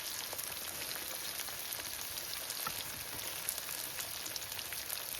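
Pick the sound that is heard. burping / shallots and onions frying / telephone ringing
shallots and onions frying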